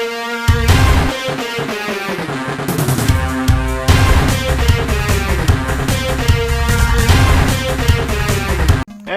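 Fast, upbeat Mega Man soundtrack music from a Game Boy Advance game, loud and dense with driving bass and bright melodic lines, playing steadily for about nine seconds before cutting off abruptly.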